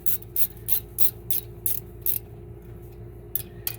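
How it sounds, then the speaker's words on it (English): A ratchet wrench clicks through a series of short, regular bursts, about eight or nine in a row, as it tightens car brake caliper bolts, close and fairly loud with a low hum behind. "What you gotta do is tighten them up now. Ratchet wrenches, I love them,"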